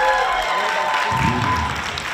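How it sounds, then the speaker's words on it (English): An audience at a singing competition applauds a performer, a short burst of clapping with a sustained musical tone and a voice speaking over it. "Can we give her another round of applause?"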